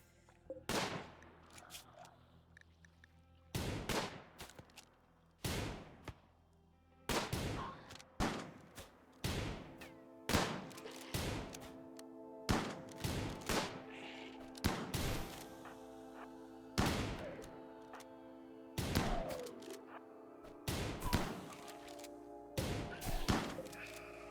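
Gunfire in the colony sim RimWorld, a long run of sharp, loud shots in irregular bursts and single cracks with short decaying tails, a voice briefly talking among them.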